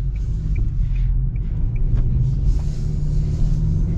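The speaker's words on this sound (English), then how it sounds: "A little bit of wind noise. It is super windy today though" Steady wind noise inside a 2023 Nissan Sentra SR, front-wheel drive, while driving on a very windy day through snow, a continuous low rumble under road noise throughout.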